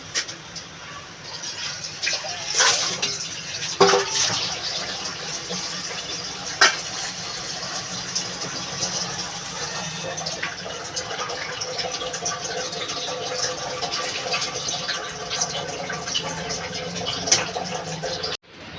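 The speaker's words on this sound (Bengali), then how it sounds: "তরকারিটা আমি এবার সোমবার দেবো ঢেলে নেবো গামলাতে" A thin fish curry of pangas fish bones with helencha greens is poured into a large bowl, making a long, continuous liquid gush and splash at moderate volume with occasional bumps of the pot.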